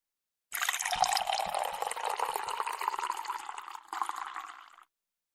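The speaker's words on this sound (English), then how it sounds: "That was me actually reaching over to the pot of coffee on my desk and pouring" Coffee pours from a pot into a cup at a desk, a continuous close liquid stream with rising fill tone lasting about four seconds, a brief break near the end, then silence.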